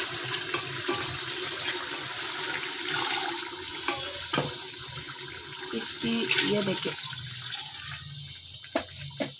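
Water is poured into a pot of beef before pressure cooking for biryani, a continuous splashing pour heard close up, with a person speaking briefly over it.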